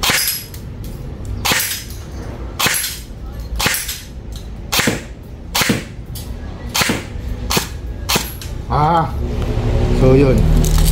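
Repeated gunshots from a firearm fired after aiming, sharp loud cracks at a steady rhythm of roughly one per second, close by, with a short burst of talk near the end.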